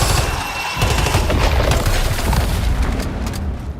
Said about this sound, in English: it's the assault rifle